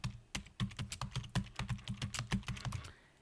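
Quick, even keystrokes rattle on a computer keyboard, a close run of about fifteen crisp clicks that ends abruptly.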